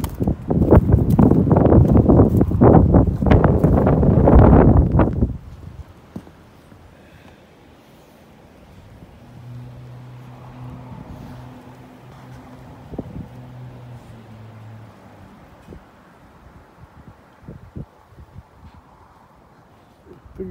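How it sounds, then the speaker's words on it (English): Cold winter north wind roars into the microphone for the first five seconds, then drops to a faint outdoor hush, with a low engine-like hum and scattered small knocks. "Very cold out right now. Last of the winter north wind."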